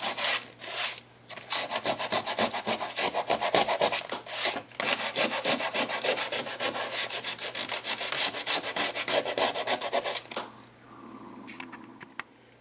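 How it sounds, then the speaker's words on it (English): Sandpaper scrubbed over layered mixed-media paper pages, close, steady rapid back-and-forth rasping strokes for about ten seconds, then stopping into near quiet. "I'm going to bring in some sandpaper."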